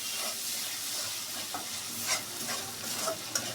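Chopped garlic and ginger-garlic paste fry with dried ribbonfish in a pan: an even, close sizzle with soft scraping stir strokes and occasional spatters, no one speaking.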